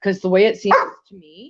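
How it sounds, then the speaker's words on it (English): A pet dog barks several times in quick yapping bursts close to the microphone, overlapping someone talking, followed by a softer whine at the end. "Sorry about my dog."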